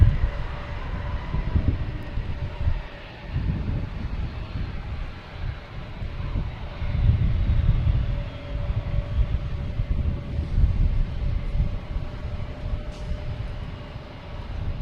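An American Airlines Airbus A321 jet at Boston Logan Airport, a low rumbling engine roar that swells and fades in waves, heard from a distance outdoors with a faint steady tone.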